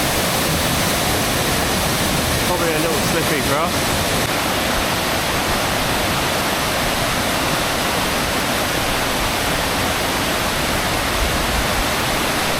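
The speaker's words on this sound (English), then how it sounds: "I think you can probably walk underneath and behind the waterfall." A waterfall in Mondulkiri pours with a dense, unbroken roar that fills the whole stretch at close range, while a person talks briefly over it.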